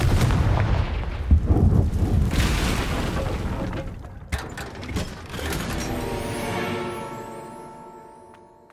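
A Confringo spell blast in the Hogwarts Legacy video game on PS5 gives a loud booming, crackling burst with mechanical rattling, then a sharp second impact and a ringing, fading tail.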